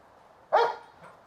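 A German Shepherd gives one sharp, loud bark close by, a brief burst that fades quickly into quiet room tone.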